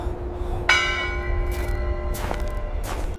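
Church bells chime on Christmas night, a single clear ringing strike with a long sustained hum, followed by fainter struck tones over a low background rumble.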